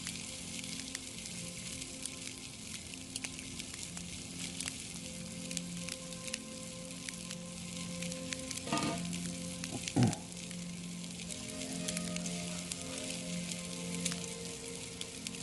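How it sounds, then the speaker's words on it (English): Shrimp and rice sizzle on a Blackstone griddle in a constant close crackling hiss, with a few metallic scrapes and clinks of a spatula partway through. "I got my rice just sitting there crisping up"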